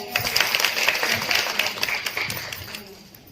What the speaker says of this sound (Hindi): सभी इसके लिए तालियां बजाएंगे